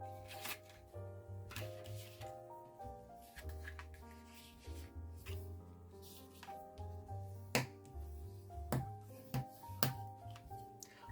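A paper card is folded accordion-style and its creases pressed firmly, giving close, irregular rubbing, sliding and crisp snapping sounds while soft music plays underneath.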